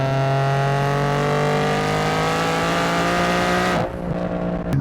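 A turbocharged Infiniti G37 coupe making about 500 horsepower accelerates hard, its engine note climbing steadily in pitch for several seconds, loud and close, before a sharp break and drop as the throttle lifts.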